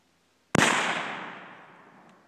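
A single gunshot fired at a target during outdoor shooting practice: one sharp, loud crack followed by a long fading echo, heard alone.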